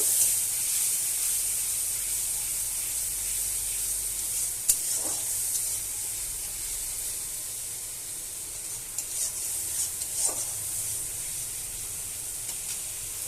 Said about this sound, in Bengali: তো এবার মশলাটা আমি ভালোভাবে কষিয়ে নেব।